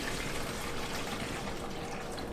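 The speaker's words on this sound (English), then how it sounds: "what I'm going to do is I'm going to pour the water in." Water pours steadily into the reservoir of an AeroGarden Harvest indoor garden, a continuous close splashing trickle with no pauses and no talking.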